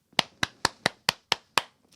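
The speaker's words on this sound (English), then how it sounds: "There's the applause." Applause as seven sharp, evenly spaced claps, crisp and close, fairly quiet and heard alone.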